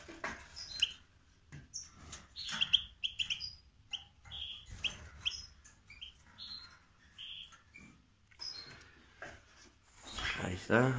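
Goldfinches and goldfinch-canary hybrid mule birds chirp in cold weather, with a steady run of short, bright tweets and trills at close range, partly overlapping and alone without any talking.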